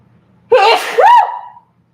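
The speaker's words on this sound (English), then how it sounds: "I'm going to sneeze." A single loud, close sneeze bursts out sharply with a quick intake and then a second explosive release, all over within about a second, followed by silence.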